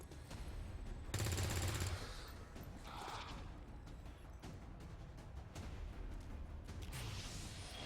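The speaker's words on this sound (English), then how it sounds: "Shooting into full cover." Gunfire in the XCOM 2 tactical video game, a dense burst of rapid shots followed by further bangs and rumbling battle noise, loud and without speech.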